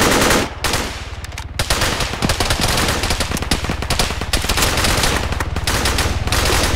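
Video game gunfire: sustained rapid automatic bursts rattle continuously and loudly for several seconds, with only brief gaps between strings of shots.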